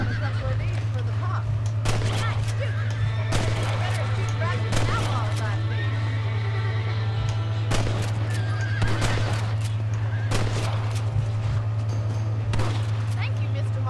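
A horse neighs and whinnies repeatedly in Red Dead Redemption, with hoofbeats clip-clopping over a steady low engine-like game drone, plus occasional sharp bangs and some voices.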